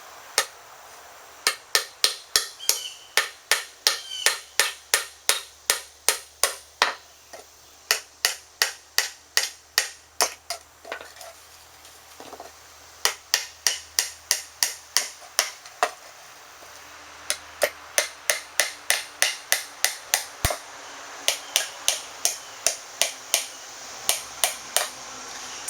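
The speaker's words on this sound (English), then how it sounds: "hammer the nails." Repeated sharp hammer strikes on nails into a wooden birdhouse in quick rhythmic runs, separated by short pauses; close and clear with a quiet background.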